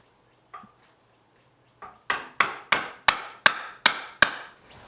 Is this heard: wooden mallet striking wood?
yes